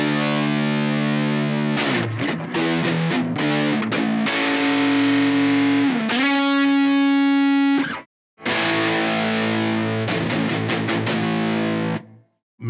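A Silvertone 1446 electric guitar played through a Kittycaster FX effects pedal, with loud, fuzzy distorted chords and sustained notes, strummed riffs broken by brief pauses and a wobbling modulated tone near the end.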